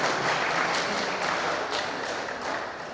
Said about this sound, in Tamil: ஆகவே நல்லா கைதட்டுங்க